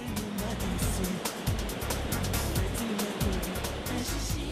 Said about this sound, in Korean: 그러나 꾸따 카니발의 진짜 주인공은 환상적인 이 파도입니다